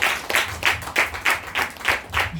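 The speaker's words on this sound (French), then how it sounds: "Acclame Jésus" An audience at a French-language Christian ministry gathering claps in a steady, even rhythm, about three claps per second, loud and close, with faint crowd voices beneath.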